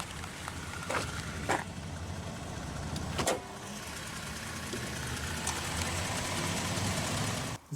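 A 2018 Jeep Grand Cherokee Limited with a Pentastar 3.6-liter naturally aspirated V6 idles at a quiet, steady hum, with a few faint clicks and knocks over the low engine drone.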